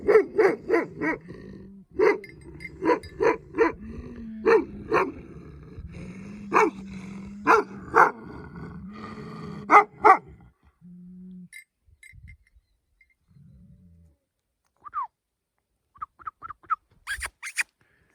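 Several dogs bark in sharp bursts with low growling between them, loud and close, then the noise thins into scattered yelps and quiet.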